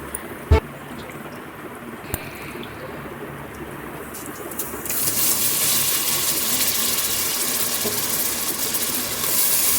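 Mutton pieces being rinsed in water for a pressure-cooker curry: a steady gush of running water, like a tap, fills the second half, with a faint earlier wash and a sharp knock near the start.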